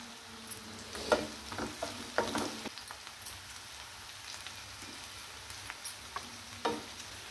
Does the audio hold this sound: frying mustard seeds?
yes